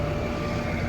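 A 1978 Dodge Monaco base model V8 engine running, a steady loud low rumble that holds constant through the whole second with no voices over it.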